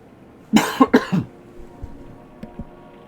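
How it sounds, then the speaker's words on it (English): A short burst of dry, harsh coughs, three or four in quick succession up close, followed by a few faint clicks. "Got myself a dry cough."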